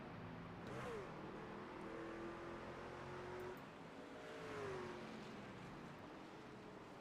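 A race truck in a racing video game roars past, engine revving and shifting pitch as it goes by twice, steady and fairly close with no speech over it.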